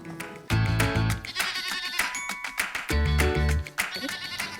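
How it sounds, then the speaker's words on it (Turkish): Goats bleat repeatedly in loud, wavering calls close by, several animals overlapping in bursts with short gaps between them. "Şurada bir tane keçi daha var hatta."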